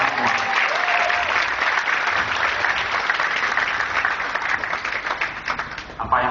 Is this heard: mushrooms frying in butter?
no